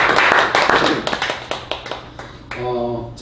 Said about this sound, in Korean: 동의하시는 분 박수 보내주셔서 감사하겠습니다